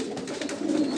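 Pigeons cooing in a Moroccan loft of breeding birds and squabs, a low soft throaty coo repeating steadily close by with no talk.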